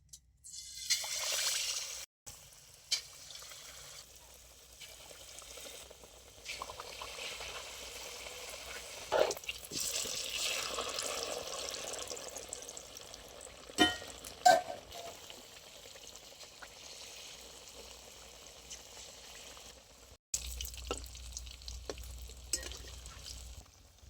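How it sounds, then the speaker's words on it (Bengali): Potato fritters frying in hot white oil, a soft continuous sizzle and bubbling with occasional stirring clatter and scraping, fairly quiet and close, no talking. "এবার আমি তেলের মধ্যে ছেড়ে দিচ্ছি"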